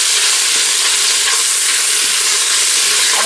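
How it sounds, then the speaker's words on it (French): Onions sauté in olive oil, giving a loud, dense, continuous sizzle heard up close with no talking. "Je laisse revenir dans l'huile d'olive"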